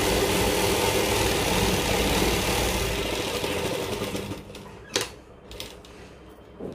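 A sewing machine runs in a fast, continuous whir while stitching elastic onto palazzo pants, then stops, leaving a few sharp clicks and handling knocks near the end.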